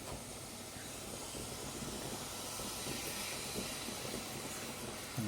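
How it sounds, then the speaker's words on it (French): A mirin marinade comes to a boil in a pan, giving a continuous bubbling hiss that holds steady and fairly close, with no talking over it. "Je vais porter à ébullition."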